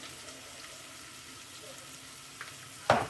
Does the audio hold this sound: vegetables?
yes